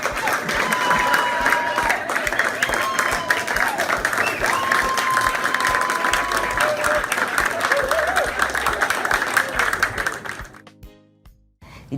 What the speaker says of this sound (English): please join me in a big, big round of applause for this dedicated,